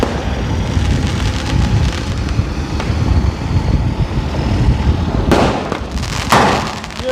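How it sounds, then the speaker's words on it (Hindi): Diwali firecrackers and fireworks set off on a street in Roorkee, India, a continuous crackling barrage with sharper, louder bursts near the end, fairly close and loud. "सड़क पर आतिशबाजी लगातार आपको देखने को मिलेगी।"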